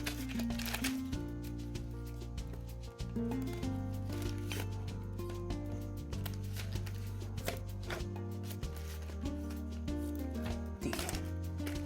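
Cards are shuffled and picked for a Hindi pick-a-card love reading. Soft, steady riffling and flicking carries on throughout, with light taps, under continuous background music.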